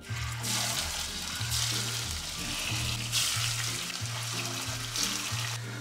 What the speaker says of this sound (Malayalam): വെളിച്ചെണ്ണ ചൂടായിരിപ്പുണ്ട് അപ്പോൾ ഈ ഫിഷിൻ്റെ കഷ്ണങ്ങളൊന്നും ഞാൻ ഇട്ട് കൊടുക്കണേ